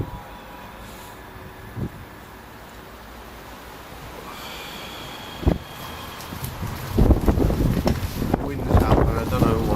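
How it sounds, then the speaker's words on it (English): Wind buffets an outdoor microphone with a steady low rumble, building into louder gusty blasts and thumps toward the end. "Wind's up"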